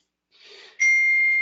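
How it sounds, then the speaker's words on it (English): A phone goes off in the background: a soft tone, then a bright sustained electronic ring that holds steadily, close and clear, with no talking. "that's my phone going off in the background"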